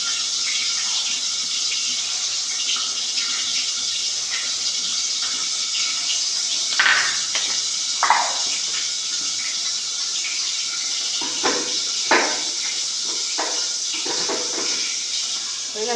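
Water pours steadily into a pan while fish curry is cooking, a continuous splashing rush lasting the whole stretch, with a few clinks and knocks of utensils near the middle and end.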